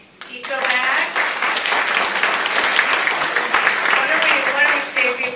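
Ceremony audience breaks into applause for sponsors being recognized, clapping starting abruptly after a brief quiet moment and continuing steadily, with a voice speaking over it.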